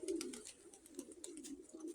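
A pet dark grey female pigeon with speckled markings cooing softly and repeatedly, a low throaty rolling coo close by in a quiet room.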